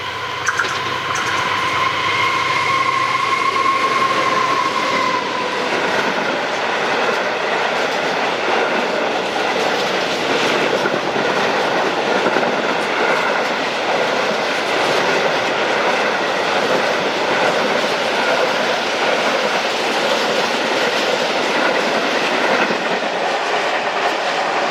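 A freight train from Grangemouth to Daventry, hauled by class 66 locomotive 66168, passes close and loud in Scotland in winter with continuous clattering wheels and rolling rumble, and a brief tone at the start.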